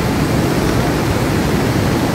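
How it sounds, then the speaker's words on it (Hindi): A swollen river rushes past a washed-out road, a loud, continuous broadband roar of churning water close by, steady and unbroken, with no voices over it. "ये नदी है"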